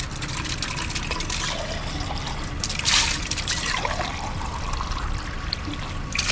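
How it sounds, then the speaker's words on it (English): Water runs and trickles steadily at a town water filling station beside a building built in 1834, a constant close splashing with a brief louder gush midway and no talking. "Let's get some water. We got a water filling station here in town."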